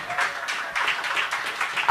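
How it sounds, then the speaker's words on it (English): A crowd claps for the final three performers at a poetry slam night in an arts bar, a steady moderate patter of hands with a few louder bursts. "Another round of applause for our final 3, please."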